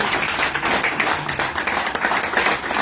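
A church congregation claps together during a Tuesday worship service, a dense, steady patter of many hands in a reverberant hall with faint voices underneath.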